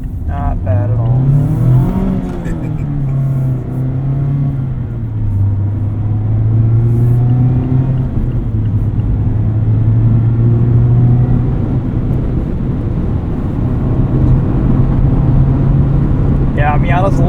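A 2024 Mazda MX-5 Miata ND3 Grand Touring engine drones loudly from inside the cabin, rising and shifting in pitch as it accelerates, with people talking over it.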